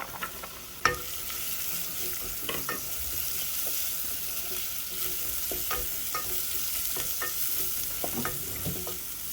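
Carrots are stirred into a pot of bean stew. A spoon strikes sharply near the start, then light scrapes and clinks come at intervals over a steady sizzling hiss. No one speaks.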